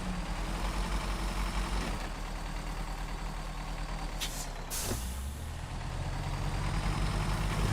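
Heavy crane truck in the off-road driving game Snowrunner, a steady loud engine drone throughout with a sharp hiss like an air brake releasing midway and no talking.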